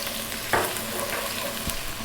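Chopped garlic and thin strips of ginger sizzle in a pan on high heat, a steady close frying hiss with a brief sharper burst of crackle partway through.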